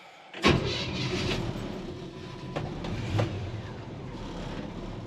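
A 1958 Chevrolet 3100 truck with a 283 small-block V8 and TH350 automatic starts and idles with a steady low rumble that swells briefly a few times. It sounds close and continuous, with no talking.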